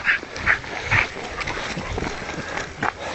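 A dog named Jet on a short lead during a walk gives several brief high whimpers and yips, close to the microphone, with rustling and footstep noise between the cries.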